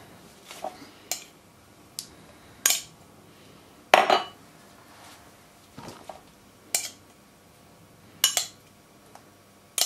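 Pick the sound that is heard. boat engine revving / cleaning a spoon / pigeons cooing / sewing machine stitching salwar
cleaning a spoon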